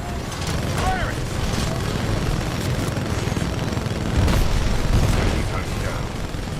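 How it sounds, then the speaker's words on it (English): The Titan's smart core weapon in Titanfall 2 fires a dense, continuous barrage of rapid shots with booming impacts, loud and sustained throughout. "Smart core activated. Fire it!"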